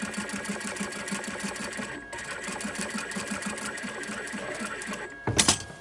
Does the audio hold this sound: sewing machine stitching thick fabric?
yes